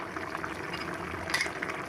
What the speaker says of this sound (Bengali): আমি একটু জাল দিয়ে দিছি